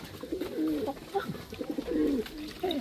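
Pigeons in a loft during heavy rain coo in repeated soft, throaty bursts close by, with a steady background hiss throughout.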